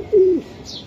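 A racer pigeon gives a single short, low coo up close, followed by a faint higher chirp.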